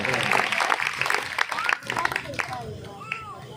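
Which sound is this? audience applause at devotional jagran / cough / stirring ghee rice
audience applause at devotional jagran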